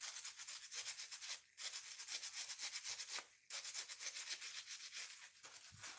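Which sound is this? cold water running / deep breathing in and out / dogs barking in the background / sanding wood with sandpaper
sanding wood with sandpaper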